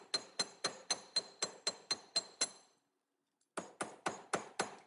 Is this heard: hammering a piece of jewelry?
yes